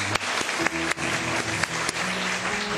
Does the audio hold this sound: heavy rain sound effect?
no